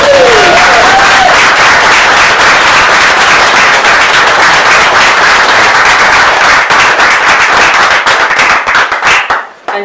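An audience at an open-mic poetry night breaks into loud, dense applause, many hands clapping close and continuously before it quickly dies away at the end.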